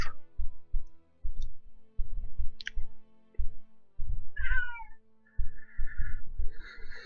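A pet cat meows several times close to a computer, short chirpy cries over a steady pattern of soft low clicks and taps in a quiet room.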